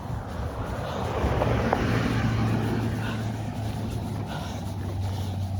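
A car passes by on an outdoor hillside road, heard as a low, continuous engine rumble that swells and fades over several seconds with some wind noise.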